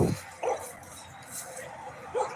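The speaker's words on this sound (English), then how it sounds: "This is that fella's dog." A dog on a roadside in a Southern town gives three sharp barks spread over about two seconds, close and clear against a quiet street background.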